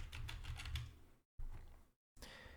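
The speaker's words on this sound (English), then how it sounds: "Simply click that, and then you're just gonna type in Claude." Close, steady keyboard typing in bursts of quick keystrokes, broken by two short silent gaps, with no talk.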